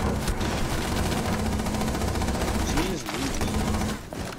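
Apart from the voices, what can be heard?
gunfire in a video game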